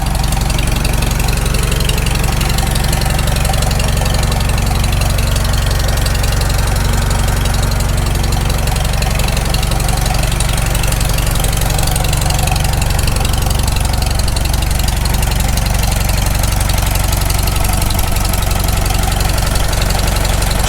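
Rebuilt Farmall Super M tractor engine running, a loud close continuous idle with a deep rumbling chug and rhythmic knocking throughout, no talking.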